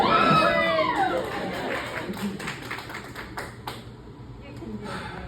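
Wedding guests clapping at an evening reception, a scattered patter of hands with a few cheers, fairly faint under a voice.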